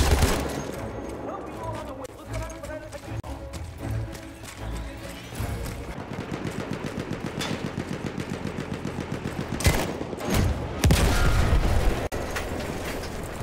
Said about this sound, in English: Stop shooting at my tank.